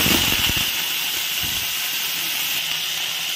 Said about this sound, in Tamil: ஒரு ஸ்பூன் போல் எண்ணெய் விட்டு கொடுத்தாச்சு. இனி நமக்கு கடு போட்டு கொடுப்போம்.